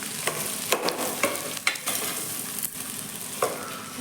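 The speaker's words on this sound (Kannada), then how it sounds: "ನೆಕ್ಸ್ಟ್ ಇವಾಗ ಆಲೂಗಡ್ಡೆನ ಬೇಯಿಸಿಟ್ಕೊಂಡಿದ್ನೆಲ್ಲ ಅದನ್ನ ಸೇರಿಸ್ತಿದ್ದೀನಿ" Boiled potatoes stirred into a frying pan for a potato palya, giving scraping stirs with a steady low sizzle and several sharp spoon strokes against the pan, close and without talk.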